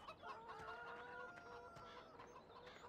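Chickens cluck steadily inside a chicken coop in the farming video game Farming Simulator 17, several birds overlapping in a busy, moderately loud chorus with no talking.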